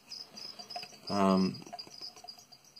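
Feeder cricket offered to a tarantula, chirping in short repeated bursts with one louder, sustained trill midway, close and fairly quiet over a still background.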